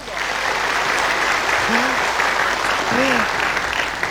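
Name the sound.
audience applause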